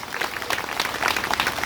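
A church congregation claps during a Hindi sermon, a busy patter of many hands that rises and falls in waves, fairly loud and steady throughout, with no talking over it.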